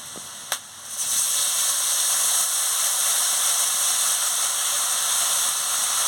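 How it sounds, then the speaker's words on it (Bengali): Spice paste of cumin, garlic, ginger and chili powder fries in oil for a tilapia curry; after a sharp click, a steady close hiss of sizzling sets in and holds evenly to the end. "দিয়ে মশলাটাকে ভালো করে কষিয়ে নিচ্ছি"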